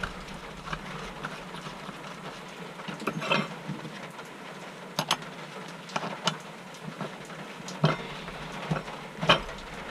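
A nut with a left-handed thread is turned on the blade of a Stihl brushcutter, making irregular metallic clicks and ratcheting ticks over a steady background hiss.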